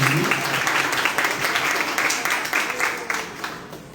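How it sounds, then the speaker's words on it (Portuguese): A church congregation at a Saturday service applauds, a crowd's brisk clapping that starts full and gradually thins toward the end, with a voice briefly audible at the start. "Tem palmas para eles também."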